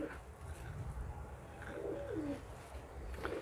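A male Teddy pigeon, the Jaipur Tonk breed, gives a soft, low rolling coo, faint against a steady background murmur.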